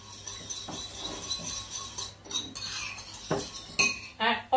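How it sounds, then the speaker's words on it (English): A whisk or spoon works homemade salad cream with sugar in a bowl, giving irregular clinks and scraping rattles against the dish, faint and close, with a few louder knocks near the end and no talking. "I always make my salad cream."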